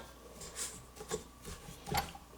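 A spatula scraping creamed batter off the beater of a stand mixer, giving a few soft, close rasping strokes at low level with no talking.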